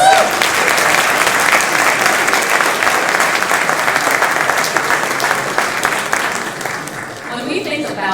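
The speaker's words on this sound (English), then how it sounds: "I think that deserves a round of applause." Audience at a newspaper's 50th anniversary celebration at the Carnegie gives a long round of applause, dense clapping that carries on steadily and thins slightly near the end.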